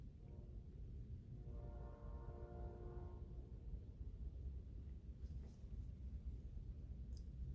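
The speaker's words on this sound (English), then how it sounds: "Shut up, train." Faint and distant, a passing train sounds its horn as a steady harmonic blast lasting about two seconds over a continuous low rumble of wheels that carries on afterward.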